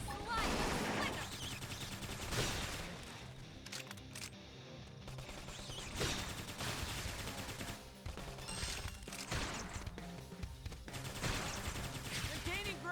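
Rapid bursts of gunfire crackle through a Xenoblade Chronicles X battle, repeated volleys and sharp shots mixed with combat effects and game voices talking over the action.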